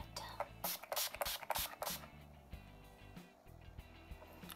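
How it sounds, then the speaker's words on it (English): A fine mist spray bottle of oil-free makeup setting spray gives several quick, close bursts of hissing mist in a row, then fades into quieter handling noises. "One last spray."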